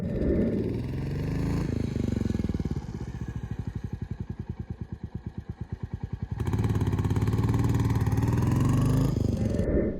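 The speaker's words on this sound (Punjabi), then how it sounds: "ਮੋਟਰਸਾਈਕਲ ਆਪਣੇ ਸਟਾਰਟ ਕਰਕੇ ਆਪਾਂ ਗਰਮ ਕਰ ਲਏ" A motorcycle engine warming up close by on a morning ride in Ladakh, chugging in a steady rhythm that rises into louder revving near the end.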